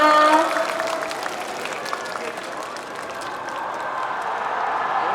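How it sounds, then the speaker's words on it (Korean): Applause from a crowd at the Busan G-Star 2023 stage where CHUNG HA is performing, a broad wash of clapping that is loudest at the start and stays steady, with a few voices and calls mixed in. "큰 박수 부탁드립니다."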